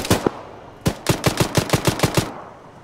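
Machine gun bursts in a military shooter game with an armored BTR vehicle: two quick shots, then a rapid, evenly spaced burst of about nine rounds, loud and close, with no talking.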